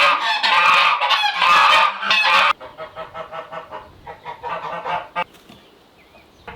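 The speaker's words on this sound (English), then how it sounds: "the brown CB, the brown chicken, is sitting in this one, but not laying eggs because she has stopped." Chickens in a backyard hen house coop give loud, honking squawks at close range, a dense burst of calls followed by a run of shorter rhythmic clucks and a few sharp calls, with no talking.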